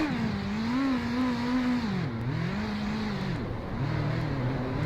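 A race car engine in the iRacing simulator, leaving the Mid-Ohio pit lane in first gear, drones steadily and loudly, its pitch swooping up and down as the throttle varies, with no talk over it.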